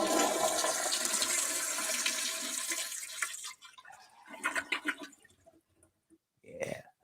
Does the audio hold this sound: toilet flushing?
yes